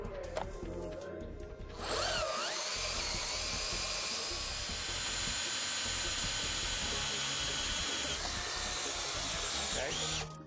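A hot tapping machine drills a hole into a pressurized pipe, starting after a short pause with a loud, sustained high-pitched whine of the drill that holds steady for several seconds, with faint talk at the start.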